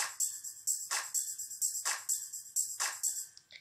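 A multipad 2 pattern from a multipad percussion unit plays as the base of a composition: bright, hissy hits in a steady repeating rhythm with sustained high tones, clear and alone with no talk.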